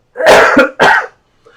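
A person coughs in two harsh, loud bursts close to the mic, with a short gap between them and a faint sound trailing after.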